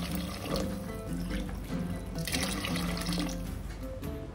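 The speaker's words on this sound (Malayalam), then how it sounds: "ഇനി ബാക്കി വെള്ളം കൂടെ ഒഴിച്ചെടുക്കണം" Remaining water poured into a pot for Saudi-style Bukhari rice, a steady continuous splashing pour with running-water texture, close and moderately loud throughout with no talking.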